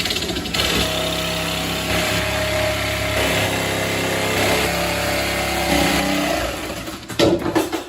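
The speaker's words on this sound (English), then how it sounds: "And I've got my saw, so I guess I'm going to start cutting." A power saw cuts through the floorboard of an MG TD car under restoration, a steady loud whining drone for about six seconds before it winds down and stops with a few clattering knocks.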